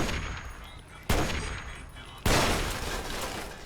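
Sniper gunfire in Fallout 3: two sharp, loud shots about a second apart, each cracking in suddenly and leaving a long ringing decay, over a quieter game background.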